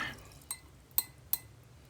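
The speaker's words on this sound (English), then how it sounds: "I'm just going to wet my brush and pull this out a bit and rinse it off" A watercolour paintbrush is rinsed in a glass of water, making three brief, faint clinks and taps against the glass spread over a couple of seconds amid quiet background.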